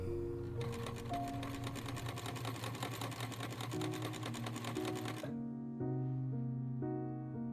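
A sewing machine stitches a velvet bib front in a rapid, steady mechanical whir with fast needle ticks. It stops abruptly partway through, and soft background music continues afterward.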